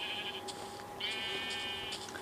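Sheep bleating in Minecraft Pocket Edition, two drawn-out wavering game bleats in succession over a steady background hum; no talking.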